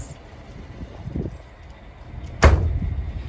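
A storage compartment door on a 2021 Renegade Verona LE 40LRB motorhome opens with a soft rustle, then a single sharp latch clack, followed by a low hollow rumble.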